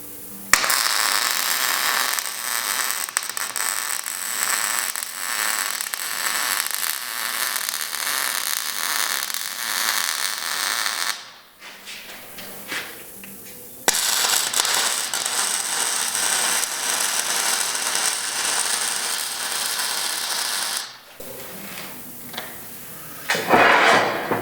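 Welding along the inside of a steel workbench frame: a dense, continuous crackling buzz in two long runs, each about ten seconds, broken by a short quiet pause.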